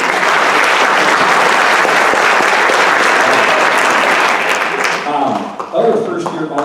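An audience applauding All-State band students at a high school spring band concert, dense sustained clapping filling the room that thins out near the end as a speaker begins talking.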